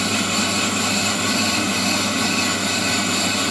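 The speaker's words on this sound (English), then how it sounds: "So we're actually machining that now," A brake lathe machines a warped brake rotor, giving a loud, steady mechanical whir with a broad hissing drone that holds unchanged from start to end, with no talking.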